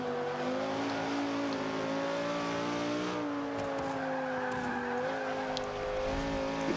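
A 2005 Honda NSX-R accelerating in the racing game Forza 5, its engine note climbing steadily and shifting pitch with gear changes, loud and continuous with brief tire squeal and no talking.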